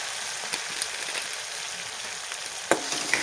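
Soybean masala curry fries in oil in a pan, with a steady close sizzle and a few light stirring scrapes and clinks, heard alone.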